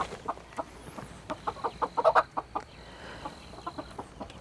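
Chickens in a backyard coop cluck softly in a series of short, quick, slightly distant calls, bunched into a rapid run in the middle, with a faint steady hum underneath.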